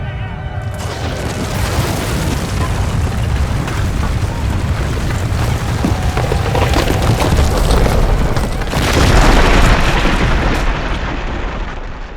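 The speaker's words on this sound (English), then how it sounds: "The walls come tumbling down" City walls crashing down in a Jericho story sound effect: a long, heavy rumbling collapse of stone, with crunching debris that swells louder near the end, loud and continuous.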